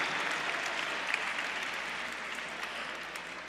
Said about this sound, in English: Big round of applause for buyer number 370.